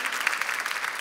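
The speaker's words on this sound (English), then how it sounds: "it's okay to clap" A church campus audience applauds, producing a dense, continuous patter of many hands clapping at close range, alone and steady over about a second.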